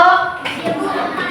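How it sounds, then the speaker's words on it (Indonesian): A short burst of classroom applause for a student group, scattered clapping that starts right after a voice and carries on under faint talk. "kasih tepuk tangan untuk kelompok"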